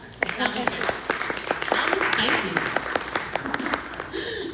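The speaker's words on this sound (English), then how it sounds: "Round of applause for us." Audience applause at a District 5 candidate forum, a steady crowd clapping with dense rapid claps sustained across the moment, a voice speaking over it.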